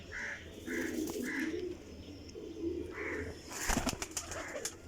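A champion flying pigeon coos in low, repeated phrases nearby, followed by a sudden burst of wing flapping near the end.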